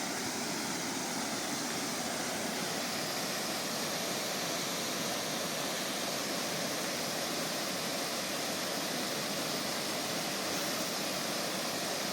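A steady, broad roar of the Hurkalo waterfall near Korchyn in the Carpathians fills the whole stretch without letup, even and unbroken like a waterfall heard from a distance.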